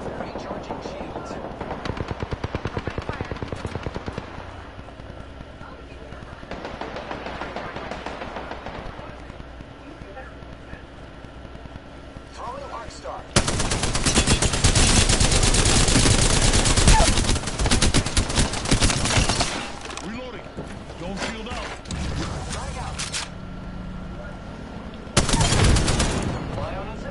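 Apex Legends gunfire in a fight: long stretches of heavy automatic fire with rapid bursts and a later short burst, loud over background game noise, with a player's voice in places.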